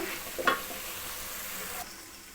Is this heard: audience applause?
no